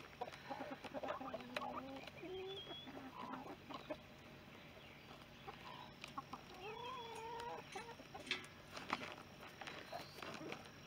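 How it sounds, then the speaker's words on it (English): A broody hen clucks from inside a milk crate, with soft repeated clucks and brief higher calls over a busy farmyard backdrop of other chickens and light footsteps. "You can see this hen, she's the one with the chicks."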